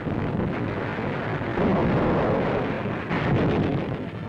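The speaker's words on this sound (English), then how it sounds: "First, our warships unleash a tremendous pre-landing bombardment." Warship pre-landing bombardment before the battle of Tarawa, a dense continuous rumble of distant explosions and heavy gunfire rolling together, loud and booming throughout with no voices.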